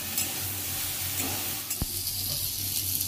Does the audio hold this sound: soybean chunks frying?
yes